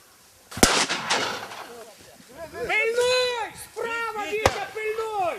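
Two sharp gunshots at a game-bird hunting season opening, one early and one later, each a sudden crack cutting through people talking nearby.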